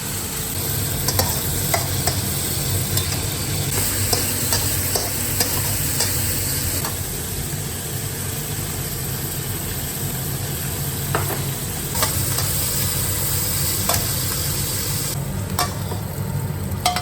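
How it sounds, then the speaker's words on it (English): Soybean paste sauce for noodles is stir-fried in a pan, a loud, continuous close sizzle broken by scraping and stirring strokes, with no voices. "Now I'm going to stir-fry the soybean paste sauce, the soul of this whole bowl of noodles."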